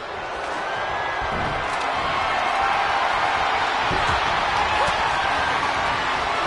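Large wrestling arena crowd in WWE 2K25 roars steadily throughout, a dense continuous cheer with occasional thuds and faint whoops, loud and sustained.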